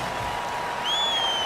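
Simulated stadium crowd in Madden 19 during a Dolphins NFL game: a steady, dense roar that swells slightly near the end, with sustained whistle-like tones rising over it.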